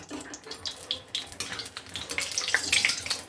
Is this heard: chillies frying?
yes